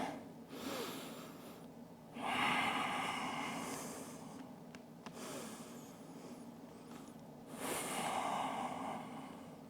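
Slow, soft breaths drift in and out during extended child's pose in a yoga session, three quiet inhale-exhale cycles close up with faint nasal airflow.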